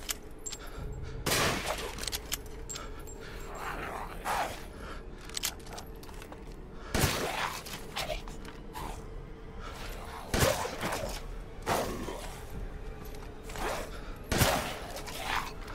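Scattered sharp gunshots in Resident Evil Village during the Alcina Dimitrescu boss fight, about eight crisp reports spaced a second or two apart over a low steady hum.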